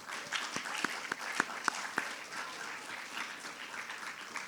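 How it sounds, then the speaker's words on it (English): Applause from a school audience at a spring varsity sports awards ceremony, honoring coaches; moderate crowd clapping with a few sharp, close individual claps standing out, fading slightly toward the end. "Let's give them a round of applause."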